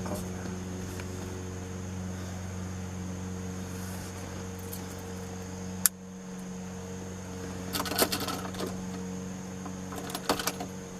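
The moonroof motor of a Lincoln Town Car whirs steadily with a high electric whine and hum, then stops abruptly, followed by a few faint clicks and rattles near the end; no one speaks.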